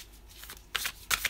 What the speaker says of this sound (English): we're using the Wild Unknown, hard to shuffle tarot cards